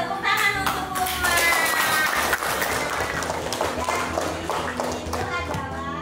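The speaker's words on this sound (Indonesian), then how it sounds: "Betul sekali, tepuk tangan untuk Uma." Classroom clapping for a student in an Indonesian school, a dense burst of small hands applauding together with children's voices over it, close and steady throughout.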